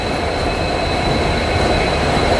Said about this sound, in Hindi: ये आ रही है अपनी Guwahati Silchar express डिल्लूभाई diesel locomotive के साथ